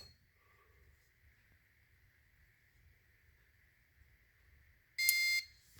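A fire alarm smoke detector under test chirps once loudly and briefly near the end, after a faint steady tone and low rumble.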